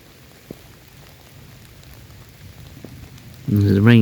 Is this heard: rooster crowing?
no